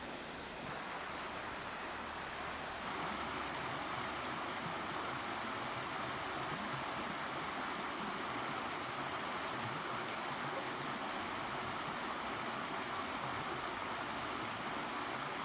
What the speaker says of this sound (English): here's the part of the river where Ray and Lily are going to play